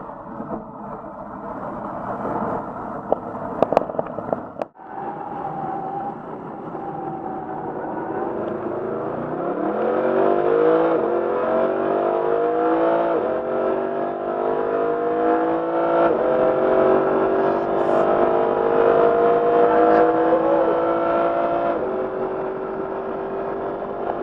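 Mercedes SLS AMG engine revving, a loud rising and falling engine note that climbs in pitch and holds, preceded by a few sharp knocks.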